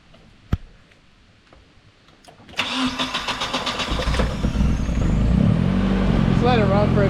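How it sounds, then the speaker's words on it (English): A Nissan 240SX with a KA24E engine cranks with a quick run of rhythmic starter pulses, then catches and settles into a loud, rough idle after newly fitted fuel injectors. Voices speak over the running engine. "go ahead and turn it over and start it"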